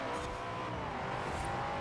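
A car engine revs hard in the racing game Forza Horizon 4, a continuous loud roar with a dense mechanical drone and no pause, heard alone without talk.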